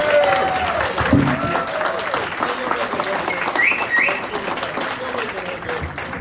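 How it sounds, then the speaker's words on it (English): Sustained applause from a crowd honoring retirees fills the space, steady clapping throughout with a few voices and a brief whistle-like tone rising over it. "please join me in a round of applause for all our retirees out there"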